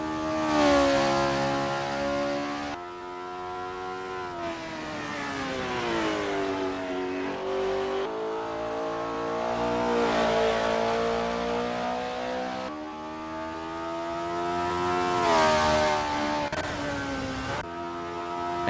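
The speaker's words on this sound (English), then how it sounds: "And there's Rob Keane, easing out onto Macau Grand Prix." A Honda S800 in an Assetto Corsa sim race on the Macau Grand Prix street circuit: a small engine revs and drones continuously, pitch climbing through gears and dropping on shifts, loud and steady throughout.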